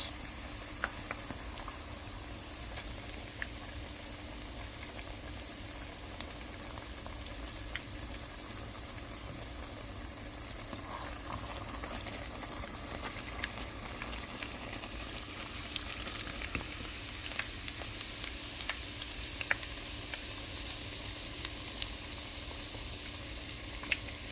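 Plantain frying in a pan, giving a faint, continuous hiss and crackle of hot oil throughout with small pops and a steady background hum and no talking.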